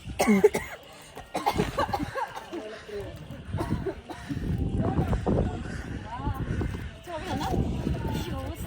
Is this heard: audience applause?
no